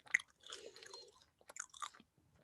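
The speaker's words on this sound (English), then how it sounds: "So when I'm chewing it, the juice is still swallowed." Dry Goron Tula fruit being chewed close to the mouth: two bursts of crunchy, moist mastication separated by a short pause, soft but distinct with no talking.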